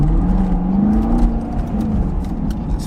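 Car on summer tires pulling an aggressive takeoff on cold pavement, a loud, close engine drone rising steadily in pitch as it accelerates, with tire and road noise running underneath.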